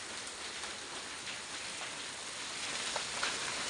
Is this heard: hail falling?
yes